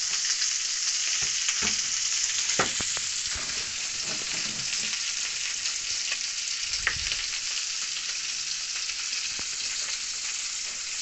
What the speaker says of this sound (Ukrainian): цієї кучки досить хай обжарюється почеревинка